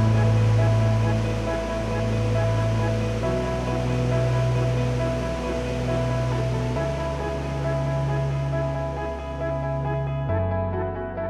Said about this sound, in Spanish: lo que yo llamo el corazón de la cascada del Gran Cañón. Está la cascada mucho más grande.